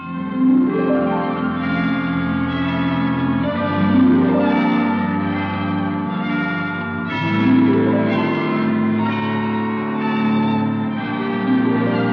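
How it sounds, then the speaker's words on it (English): Hospital chimes ring five o'clock in a series of loud, resonant bell strokes that overlap and sustain, with no talking heard. "I didn't know the hospital had chimes."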